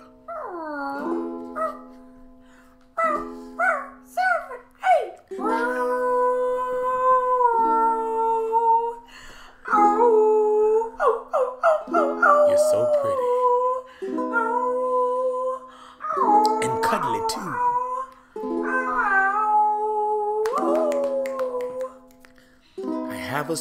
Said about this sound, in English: She's not a girl, she's my little dog, Noel.